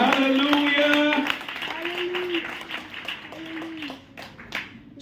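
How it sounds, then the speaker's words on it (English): Congregation clapping hands in worship at a church service, a dense patter of claps under a chanting or singing voice and other voices, fairly loud and continuous. "Can we give a hand clap of worship?"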